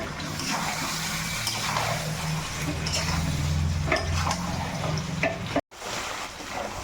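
Mutton stir-fried in a pan with tomato and dried chili paste: continuous scraping and sizzling with occasional spatula knocks, fairly loud and steady, briefly cutting out near the end.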